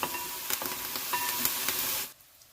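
Onions sizzle in hot oil in a pan for a mushroom curry, a steady close frying hiss with light stirring clicks, cutting off abruptly near the end.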